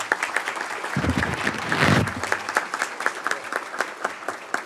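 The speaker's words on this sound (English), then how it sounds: "Can we give these 3 gentlemen another round of applause" School board meeting audience giving a round of applause, a moderate burst of clapping that thins out into scattered individual claps, with a brief louder swell in the middle.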